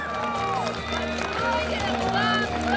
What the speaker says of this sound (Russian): Похлопаем нашим выпускникам.